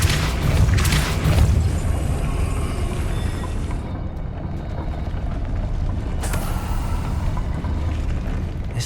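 A Compulso force spell in Hogwarts Legacy lets loose a heavy, booming rumble that fills the whole stretch, with a dense, roaring wash and a brief surge near the start and again later.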